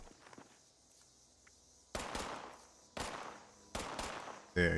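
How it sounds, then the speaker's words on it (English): Video game gunfire in a co-op breach-and-clear shooter: loud, harsh bursts of shots strike at roughly one-second intervals over a low background hum, with faint clicks before the first burst. "Hey, are you shooting me?"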